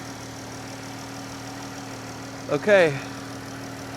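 A 3.6 liter car engine idles in a low, steady hum with faint tonal bands, close by; a person briefly speaks partway through.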